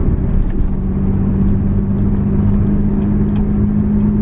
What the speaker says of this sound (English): A few things I'm already noticing as I'm accelerating and I get higher in the rev range.